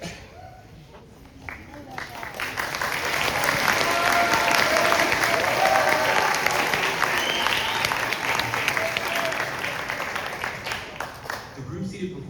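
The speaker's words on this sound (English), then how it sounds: "please applaud for these wonderful musicians" A concert audience applauds a regional school band. The clapping swells from a few claps into steady, dense applause that lasts about ten seconds.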